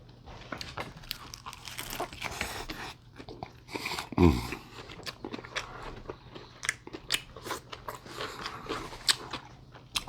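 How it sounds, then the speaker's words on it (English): Someone bites and chews a spicy Asian chili chicken wrap with jalapeno, producing close, wet crunching and smacking mouth sounds with one louder bite, and no talking. "I'm trying to eat this like a taco"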